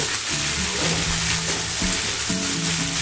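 Potatoes are tossed into a hot pan of oil tempered with panch phoron for a vegetarian paneer curry, then stirred. A loud, continuous sizzle runs throughout, with scraping stir strokes close by.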